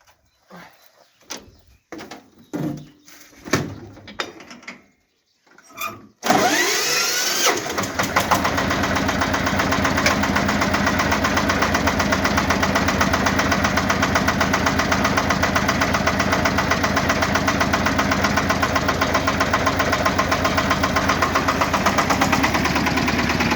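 Small engine of a Minitrak mini tractor, used with a 400-litre sprayer, sputters through a few short cranks, catches, then settles into a loud, steady, close-up chugging run that continues to the end.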